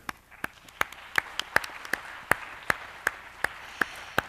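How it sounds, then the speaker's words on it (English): Audience clapping for panelists at the close of a business roundtable, sparse, evenly spaced sharp claps that carry on in a steady rhythm against a quiet room. "please give them another big round of applause"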